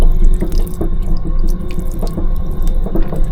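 Water runs steadily from the sink tap into the basin in a Caledonian Sleeper train cabin, loud and close, with a continuous splashing rush and small drips throughout.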